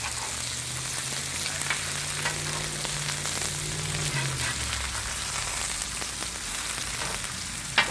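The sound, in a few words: chicken pieces frying golden brown in pan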